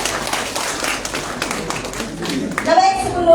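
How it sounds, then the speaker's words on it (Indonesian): Seminar audience at a national young-entrepreneur event clapping together, a dense steady patter of hands filling the room, with a voice rising over the end of the applause. "tepuk tangan dulu untuk Bapak Kaharjo."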